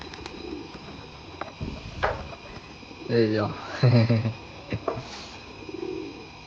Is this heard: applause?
no